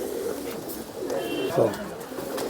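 Pigeons coo softly among champion flying pigeons, a low, faint burble with a single fuller coo near the middle, heard at a modest distance.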